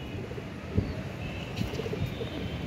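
Soft, low pigeon coos repeat a few times, faint against a steady outdoor hiss with a couple of distant chirps.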